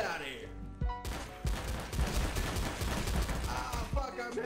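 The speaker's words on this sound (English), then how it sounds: "You shot me in my leg." Sustained video game gunfire in a roleplay server, a dense clattering volley starting abruptly after a brief lull and rolling on under shouting voices.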